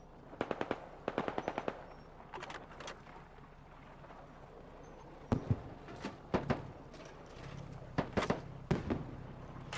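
DShK heavy machine gun fire in the video game Squad comes as short rapid bursts of loud, sharp reports, spaced by pauses over a quiet background, with no talk.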